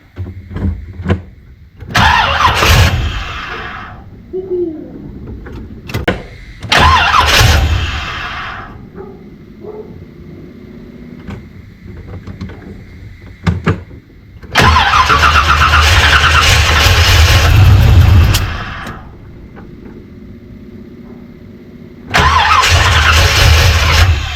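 A 1981 Corvette engine with timing that is off cranks and catches in several loud attempts, sputtering and firing with bangs before roaring in two longer sustained runs, separated by quieter pauses.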